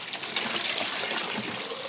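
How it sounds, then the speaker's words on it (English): Rainwater pours from a container into a diluted plant feed mix, a steady close splashing gush that stays fairly loud and even throughout, with no voices. "I'm just going to pour some of this water in from the rain"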